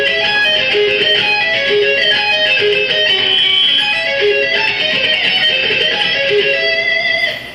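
Electric guitar playing fast diminished seventh arpeggios in D harmonic minor, a rapid continuous run of bright picked notes with sustained tone, loud and alone without talk.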